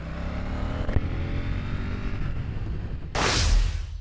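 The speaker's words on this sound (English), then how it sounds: "spending a day with KTM's Duke 890R, a bike that is now termed a middleweight sport bike" A KTM 890 Duke R middleweight sport bike's engine runs with a steady, close drone, then a louder burst of rushing noise near the end as the revs climb.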